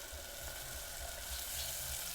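Water poured into sizzling masala in a pan while cooking khatiya chola, giving a continuous close hiss and bubbling sizzle at low level, with no talking.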